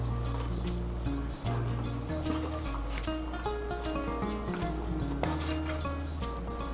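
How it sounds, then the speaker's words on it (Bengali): Fried rohu fish being stirred into a potato curry in a pan, with steady scraping and clinking of a spatula against metal over a low sizzle and bubbling, all close up and continuous with no talking. "মাছগুলোকে মিশিয়ে নেব ঝোলের সঙ্গে ভালো করে"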